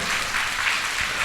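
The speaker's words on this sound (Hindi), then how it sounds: "तो एक बार आप जोरदार तालियां बजा दो अपने टीचर्स के लिए सभी बच्चे।" Children at a summer camp clap hard for their teachers, a thick, continuous burst of applause from a large group, loud and close with no talking over it.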